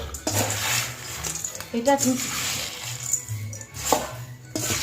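Fried chana dal and cashew nuts poured batch by batch into a bowl, giving rattling, clinking cascades against the dish with brief pauses between pours, close by, with a voice speaking briefly.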